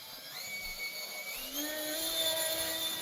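Traxxas TRX4M Defender RC truck with a brushless motor running at full speed, a steady high-pitched electric whine that rises slightly in pitch midway and holds, close and continuous with no talking.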